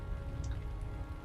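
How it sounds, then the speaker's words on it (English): Light rain patters steadily and softly across an outdoor landscape in the online game Lord of the Rings Online, with scattered drops ticking against a faint low background. "since it's raining, vision is obscured"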